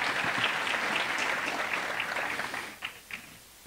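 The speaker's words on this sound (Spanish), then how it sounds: "Quiero un aplauso para Joan Alexander," An audience at a mayor's public announcement in Pereira breaks into sustained applause, thick continuous clapping that thins near the end into a few scattered late claps.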